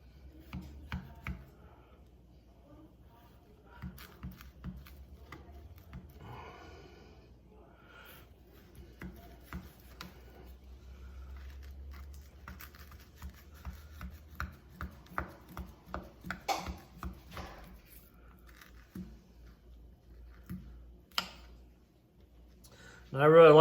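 A fillet knife cuts through partially frozen beef for jerky, giving a steady run of short, crisp slicing and tapping strokes on a board. The strokes grow denser and louder toward the end, with a voice speaking faintly at times.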